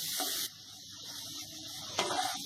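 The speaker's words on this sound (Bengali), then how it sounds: "আলুটা একটু ভেজে নিলাম" Potatoes frying in a spice masala for Mughlai paratha, a steady bright sizzling hiss close up that dips briefly and then swells again with a sharper crackle.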